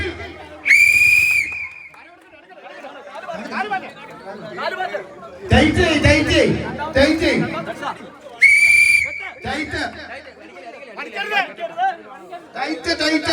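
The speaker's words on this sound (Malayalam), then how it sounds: "first whistle" Referee whistle at a village tug-of-war contest, two loud shrill blasts several seconds apart, over crowd chatter, shouting and an announcer's voice.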